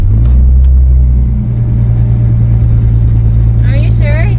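A Toyota Supra's engine idles with a loud, close, steady low rumble, a slight dip partway through, and it keeps running throughout while brief voices talk near the end.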